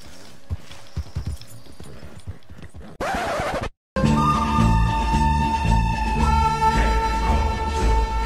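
Hooves of a horse in a video game clatter in a quick, loud, steady rhythm after a brief burst of other noise and a short silence, with no talking.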